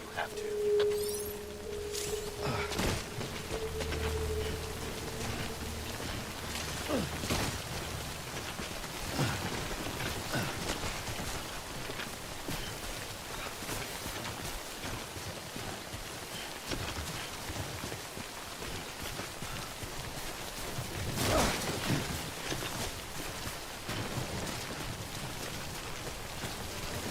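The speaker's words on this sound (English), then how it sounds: "Don't stay out in the rain any longer than you have to." Timefall rain in the game Death Stranding, a steady hiss of rain falling on surfaces that holds throughout, with scattered louder drops and a faint tone near the start.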